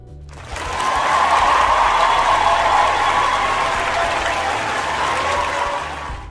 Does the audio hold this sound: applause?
yes